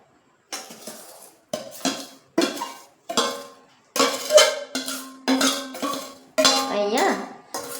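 Hard lumps of rock sugar tumble into a bowl of hand-crushed rose petals for gulkand, giving a series of distinct clinking, rattling bursts with short gaps between them, fairly close and clear with no talking.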